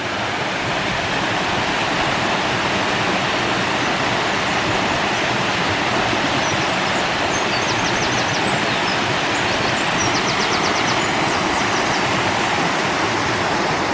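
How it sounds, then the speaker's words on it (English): The river at Dunster flows past as a loud, steady rush of water, with faint bird chirps briefly above it and no voices. "Here's the river flowing down"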